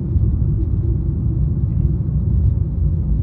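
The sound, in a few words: car road noise over bumps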